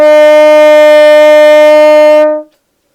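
A single sustained trumpet note, E, rings out loud and steady, bright and clean, held for over two seconds before stopping abruptly.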